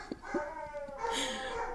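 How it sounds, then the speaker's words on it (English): A dog gives a couple of short yips followed by a drawn-out whining, whimpering cry, close and moderately loud, alongside a second dog's vocal sounds. "my god, I needed a barking dog"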